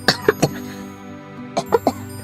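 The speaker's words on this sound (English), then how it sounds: "I might cough once in a while" Three short coughs in quick succession, a pause, then three more, close and moderately loud.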